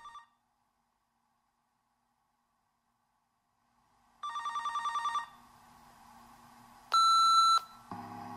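A phone line rings out on a missed call: a short electronic tone at the start, then after a long silence a steady ringing burst, followed by a louder, sharper electronic beep and a low hum, with no one speaking.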